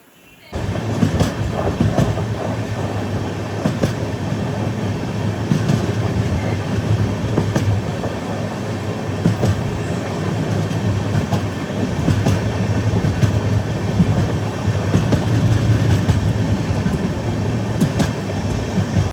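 The Tiruchanur–Hazur Sahib Nanded Express (17634), just pulled out of Sultanabad, rumbles loudly and steadily on the rails, with a rhythmic clickety-clack of wheels over joints heard from inside the coach for the whole stretch.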